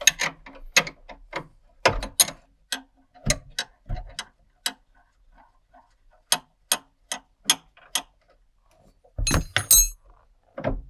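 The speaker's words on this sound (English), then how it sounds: "brake pedal has a 3/4 bolt with a 9/16 nut. So we'll just get this sucker undone." Ratchet wrench working loose the 3/4 bolt and 9/16 nut on the brake pedal of a Dodge D100 Sweptline pickup, heard as sharp clicking ticks in irregular bursts with pauses, close and fairly loud, no talking.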